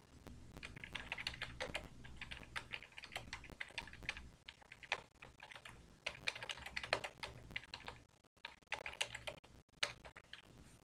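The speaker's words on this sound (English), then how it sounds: "I can't type and talk at the same time." Fingers type steadily on a computer keyboard, close and quiet, giving dense irregular bursts of small key clicks with brief pauses and no speech.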